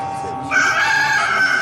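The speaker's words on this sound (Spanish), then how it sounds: "En ese momento el gallo cantó por segunda vez y Pedro se acordó" A rooster crows loudly and close in one sustained, wavering call that rises in strength midway, with no other sounds around it.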